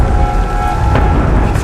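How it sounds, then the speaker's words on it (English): Steady rain pours down in an outdoor immunity challenge setting during a Survivor South Africa competition, a dense loud wash with a low rumble of thunder running beneath it and no talk. "here comes the rain again"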